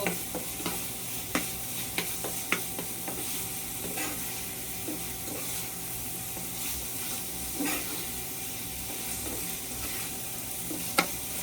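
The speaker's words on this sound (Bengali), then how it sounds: "এখন আমি ধনিয়া পাতাটা দিয়ে দিলাম। এখন একটু নাড়া দিব।" Fish bharta of loitta fish with coriander leaves being stirred in a pan, giving repeated soft scraping strokes over a faint, steady sizzle, close and quiet with no talk.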